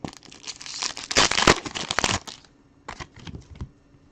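Football trading cards from a card break are flipped and shuffled through by hand, producing dense papery rustling and crinkling up close, loudest early on and then thinning to sparse bursts.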